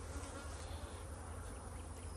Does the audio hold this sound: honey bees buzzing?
yes